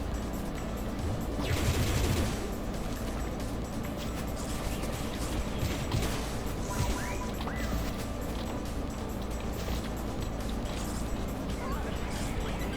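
Alien enemies fire guns in the Pizza Tower video game, a clatter of rapid shots and crashes layered over game music and effects, busiest near the start, with a voice talking along at times.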